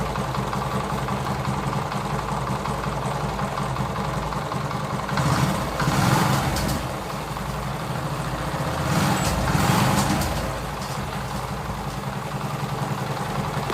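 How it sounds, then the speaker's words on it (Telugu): A TVS XL100 moped engine idles steadily after a tappet adjustment, close up, with a smooth even hum and two brief swells in loudness midway. "కిక్ కొట్టి బండి అయితే సౌండ్ అయితే వినండి"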